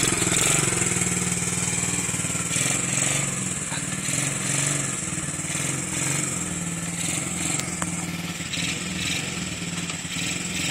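A running engine drones steadily with small surges as the driver presses the gas, loud and close throughout, with a rough continuous hum and no clear speech over it.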